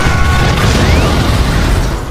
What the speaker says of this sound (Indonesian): Bob segera menyalakan korek apinya, sehingga terjadilah ledakan yang sangat besar.